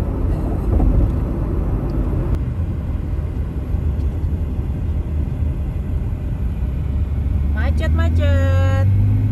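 Heavy city traffic in a jam, with a loud, steady low engine rumble throughout and a brief harmonic horn-like blare near the end.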